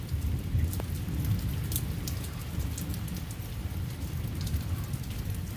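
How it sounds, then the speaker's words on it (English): A nice steady rain, not a heavy downpour, hisses evenly on surfaces throughout with faint distant thunder rumbling low beneath it, no one speaking. "not a heavy downpour rain, but a nice rain actually."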